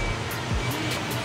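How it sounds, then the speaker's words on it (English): Heavy afternoon rainstorm arriving in open countryside in Germany during a long bike-packing ride, a dense, steady hiss of rain that holds at an even level throughout the short stretch. "The afternoon rainstorm has arrived."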